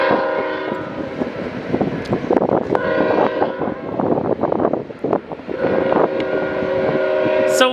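A train rumbles steadily toward a tunnel with a sustained horn and clattering wheels, the sound swelling and shifting as it moves on.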